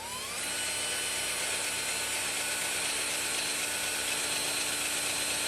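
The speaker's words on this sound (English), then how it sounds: "So now I'm just going to drill straight down in the center of those circles" A steady, high-pitched whine of a power drill boring holes straight down into a shelf board, running continuously, close and loud, with a grinding mechanical edge and no pauses.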